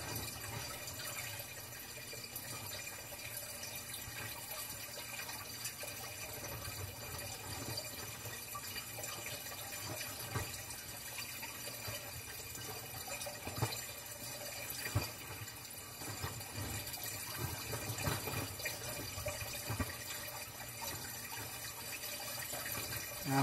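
Water runs into a water table in a steady, faint wash with light splashing and dripping, even throughout and fairly distant, with no talking.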